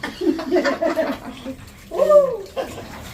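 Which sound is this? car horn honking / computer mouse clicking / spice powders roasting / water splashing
water splashing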